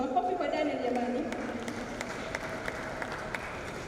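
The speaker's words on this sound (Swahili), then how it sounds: "Makofi kwa Daniel jamani." Audience applause for a speaker at an annual forum of non-governmental organisations: a steady wash of clapping from a crowd, with a voice talking over it.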